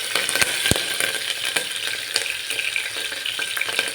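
Onion sizzles in hot oil with ginger, garlic, cumin, mustard seeds and chillies, a steady close frying hiss with a few sharp spatters, no talking, while village-style Marathwada rice khichdi is being made.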